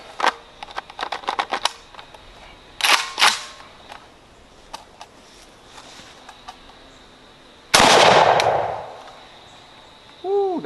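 A JTS AK12 airsoft gun fires buckshot in a few sharp, separate snaps, some in quick bursts, followed by one louder blast with a short rattling decay; fairly close, with quiet gaps between.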